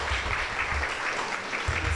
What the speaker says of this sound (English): we give her a round of applause?